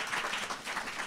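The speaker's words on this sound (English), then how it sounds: "Could you all join me in a round of applause for this amazing group of women that joins me on stage?" Conference audience clapping for a panel of women on stage, a soft, even wash of applause from a crowd, fairly distant and continuous for the whole moment.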